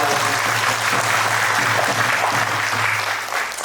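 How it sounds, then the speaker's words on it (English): Wedding guests applaud the couple in a sustained, dense round of clapping that holds steady for several seconds before easing slightly at the end. "Can we give them a round of applause?"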